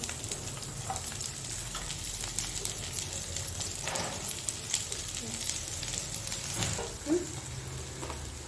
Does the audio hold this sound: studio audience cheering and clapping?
no